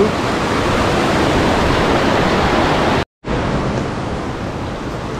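Mother Falls waterfall at Ditumabo, San Luis, Aurora roars with a loud, steady, broadband rush of falling water, continuous and close, broken once by a brief cut to silence.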